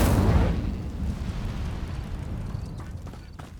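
Incendio fire spell cast in the game Hogwarts Legacy: a loud whooshing burst of flame at the start that fades into a crackling, rumbling tail.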